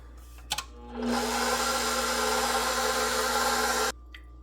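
A stand mixer runs in second gear, kneading dinner roll dough with sour cream, making a steady, close electric whir that holds for about three seconds after a couple of clicks, then stops abruptly.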